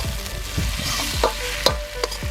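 Onions frying in a pan for a quail roast, stirred with a spoon that gives regular scraping strokes about every half second over a steady close sizzle.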